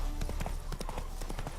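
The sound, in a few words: horse hooves in video game The Witcher 3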